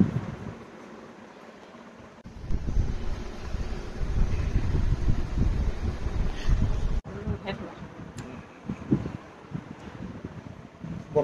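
Wind blowing outdoors, a steady rushing buffet against the microphone that swells and drops over several seconds, with faint buzzing and brief clicks.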